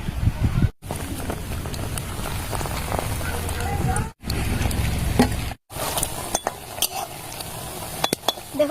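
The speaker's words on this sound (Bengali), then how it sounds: "তাহলে আমি এবার ভাজতে শুরু করি।" Potato pieces fry in hot oil with a close, crackling sizzle, broken by utensil clinks and brief gaps, as people talk over it.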